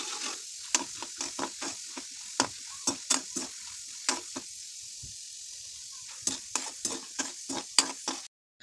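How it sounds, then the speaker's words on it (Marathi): Roasted chana dal frying in a little oil, with a faint sizzle under repeated sharp scraping strokes of a spoon against the pan at an irregular rhythm, close by. "ह्या भाजलेल्या डाळी आहे ऑलरेडी, पण त्या मी तेलामध्ये व्यवस्थित भाजून घेते, तळून घेते"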